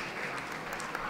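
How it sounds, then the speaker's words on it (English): Audience applause at a dog show judging of the toy group, a dense steady patter of many hands clapping throughout, fairly loud and continuous with no talk over it. "Come on, give them a round of applause."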